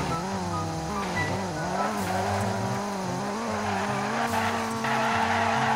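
A VW Golf GTI in a Roblox driving game climbs a steep hill, its engine droning and wavering in pitch, with a continuous tire-squeal and skid texture running over it.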